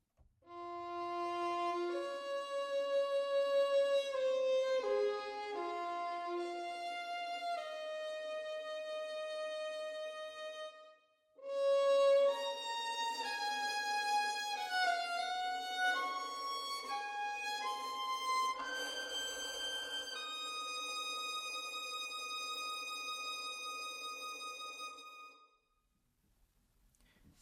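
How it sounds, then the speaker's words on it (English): Soft solo strings from the Fracture Sounds Soft String Soloists sample library play a gentle, sustained melodic line with overlapping notes and a brief pause midway, clean and close with no voices. "strings is called Soft String Soloists from Fracture Sounds"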